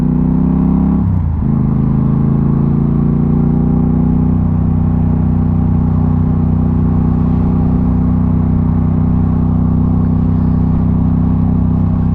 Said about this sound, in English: Traffic is so bad.